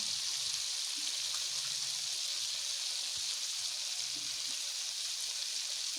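Chicken frying in hot oil, a constant, even hiss and crackle heard close up, with no pauses or talk.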